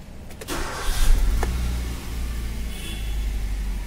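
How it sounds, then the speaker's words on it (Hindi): A Hyundai i10 engine starts after a brief starter crank, then settles into a steady idle hum close by, with no talking. "तो ये हम गाड़ी स्टार्ट करने जा रहे हैं"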